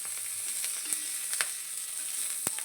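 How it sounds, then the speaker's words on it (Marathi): Fresh green chilies roast in a pan with a continuous fine, high sizzle, broken by occasional sharp pops and crackles, close by and fairly quiet, with no voices. "छान असं भाजून घ्यायच्या मिरच्या."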